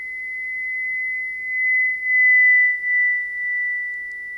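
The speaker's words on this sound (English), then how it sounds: "Now I will add also the reflection and the air absorption." Simulated Doppler effect of a passing source with road reflection and air absorption, a pure steady sine tone that swells and dips in loudness with interference notches as it passes, alone with no other sound.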